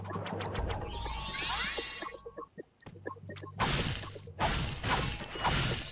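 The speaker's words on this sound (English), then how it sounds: "And we have another bolt crank." In the PS2 game Ratchet & Clank, a bolt crank turns with clicking ratchet mechanisms, metallic shattering bursts and short whooshes, mixed with game effects and no speech.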